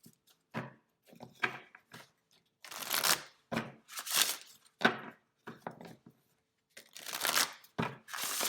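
A deck of cards being shuffled in a series of crisp riffling bursts separated by short pauses, close and fairly quiet, with no talking.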